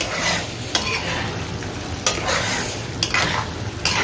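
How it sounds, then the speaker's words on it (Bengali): Spiced chicken masala being sautéed in a pan, a steady close sizzle with sharp scrapes of a spatula stirring against the metal at intervals, no voices. "দিয়ে এবার এটাকে ভালো মতো কষাবো"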